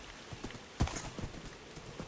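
Horse hooves clip-clop faintly in the Minecraft Lord of the Rings mod, a loose run of soft irregular thuds with one stronger knock amid a low hiss.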